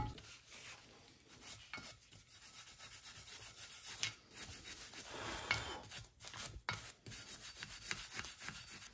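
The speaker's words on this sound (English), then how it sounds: "Now I'm just gonna clean up all the surfaces that the pads ride on, so these four corners in here," Scrubbing of a car's brake caliper bracket at the surfaces where the pads ride, a BMW 750Li under repair; steady close rubbing and rasping strokes, continuous and fairly loud with no talk.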